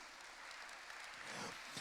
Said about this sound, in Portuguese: Quem dá uma salva de palmas para o Senhor Jesus?